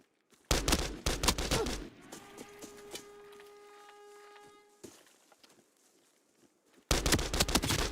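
Gunfire in the shooter game Arena Breakout: Infinite, loud bursts of rapid shots at the start and again at the end, with quieter game tones and ambience between them.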